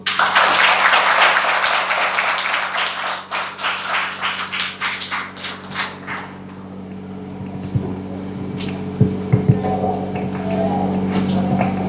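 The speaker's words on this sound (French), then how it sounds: "sous vos applaudissements." Audience applause at a banker's presentation event, dense clapping that is loud at the start and thins out over several seconds into scattered claps over a steady low hum.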